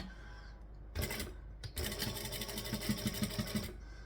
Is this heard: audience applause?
no